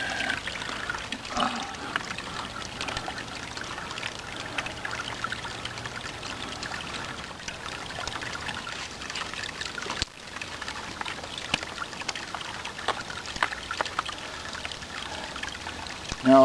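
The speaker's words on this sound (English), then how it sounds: "Fill the water bag, which is easier in some springs and harder in others." Spring water pours and trickles steadily into a water bag, a continuous close-up gurgling stream with no speech.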